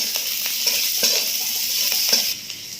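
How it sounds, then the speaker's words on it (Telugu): Green chillies fry in hot oil, a steady bright sizzle close by with occasional stirring scrapes, easing slightly quieter near the end. "పచ్చిమిర్చి సగం వేగింది కదా"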